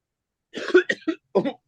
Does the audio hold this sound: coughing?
yes